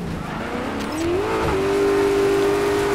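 A rally car in the Dirt 5 video game driving and drifting through a gymkhana playground, the engine rising in pitch and settling into a loud sustained high rev while the tires squeal.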